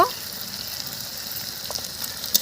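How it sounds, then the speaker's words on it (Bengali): Spices with turmeric and salt fry in a pan for a Bengali aloo dum of new potatoes and peas, giving a steady, moderately loud sizzle with faint stirring. "এবার মশলাটা ভালো করে কষে নেব।"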